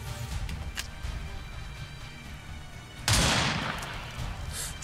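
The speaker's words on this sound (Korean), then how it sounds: "총소리는 비슷한 것 같은데 좀 다른가?" Rifle fire in the video game XCOM 2: War of the Chosen, with faint scattered sounds at first, then one sharp loud shot whose crack and rumbling tail decay over the final seconds.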